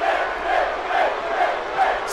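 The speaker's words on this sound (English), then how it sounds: "Fight zone cheering for Finn Balor" An arena crowd in the wrestling game WWE 2K17 cheers for Finn Balor during a table match, a steady roaring wall of chanting voices swelling in rhythmic pulses, with no other sounds over it.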